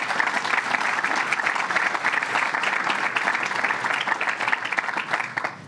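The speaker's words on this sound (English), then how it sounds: "Let's give them a round of applause." An audience at a fire department event breaks into loud, sustained applause, dense clapping that fills the space steadily for several seconds.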